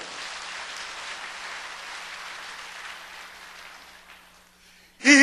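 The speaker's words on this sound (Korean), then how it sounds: "박수 좀 해." A church congregation clapping together, a dense sustained wash of applause for several seconds that fades out near the end before a loud voice cuts in.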